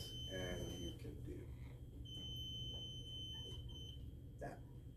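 An electronic distance sensor beeping, giving thin high steady tones that start and stop over a low hum and background noise, faint and close, with some brief voice sounds.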